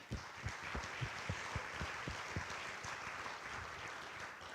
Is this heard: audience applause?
yes